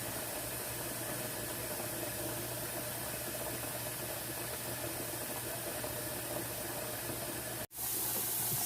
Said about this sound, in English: We are steaming now.